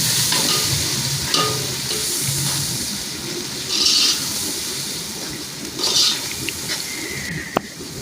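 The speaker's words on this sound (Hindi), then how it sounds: "ये मैंने अदरक लहसुन की पेस्ट डाल दी है। अब इसको अच्छी तरह भूनना है।" Browning onions with ginger-garlic paste fry for chana pulao, a loud steady sizzle under repeated stirring scrapes, with a couple of brief hissing bursts and a sharp clink near the end, and no talking.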